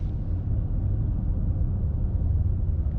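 A low, steady engine-like hum drones continuously inside a 2025 Mercedes-AMG S63 E Performance, a smooth synthetic rumble simulating a combustion engine, with no variation and no voices.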